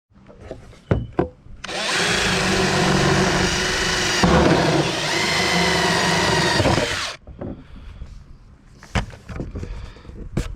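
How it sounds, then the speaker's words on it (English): A power drill whines steadily for several seconds as it bores a small hole through scrap aluminum, bracketed by a few sharp clanks and handling knocks. "grab a scrap piece of probably aluminum I have next to me here, drill a small hole"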